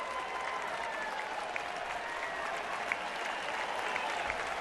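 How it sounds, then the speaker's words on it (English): Large baseball crowd roaring and applauding after a hit off the top of the right-center field fence, Yankees at Phillies in March 2012, a steady loud broadband cheer sustained throughout with no talk. "Listen to the reaction from the crowd."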